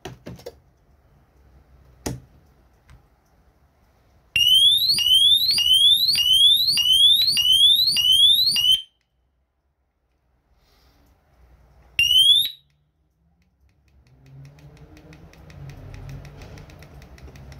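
A DESI home alarm system siren at an electrical shop, sounding as a loud rapidly warbling electronic wail for several seconds, cutting off, then one short burst again, with quiet room noise between.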